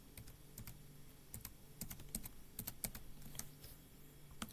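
Someone types a phone number on a computer keyboard, a quiet run of irregular key clicks close by, with no voices.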